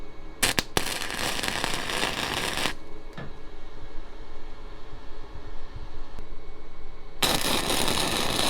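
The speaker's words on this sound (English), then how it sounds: "we'll flip this thing over and tack weld the other side" Tack welding the other side of a metal piece, with loud, close crackling buzzing bursts, first a couple of short pops then a sustained sizzle, a quiet gap, and another burst at the end.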